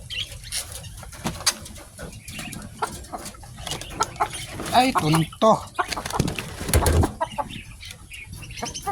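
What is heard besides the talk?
chickens clucking while being fed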